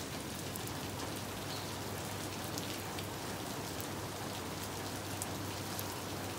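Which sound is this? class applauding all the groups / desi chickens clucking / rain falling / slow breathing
rain falling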